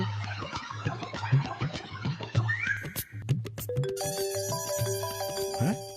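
A phone ringtone for an incoming call sounds near an apartment building's stalled lift, entering partway through as a steady repeating melodic tone over a continuous low hum, after earlier mixed background sounds.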